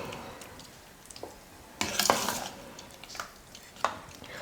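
A ladle stirs freshly drained cooked rice made from raw ration rice for a Tamil sweet, giving soft scraping and clinking sounds with a few sharper knocks against the pot.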